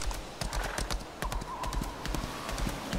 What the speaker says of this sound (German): Hallo, du solltest aufs Pferd steigen.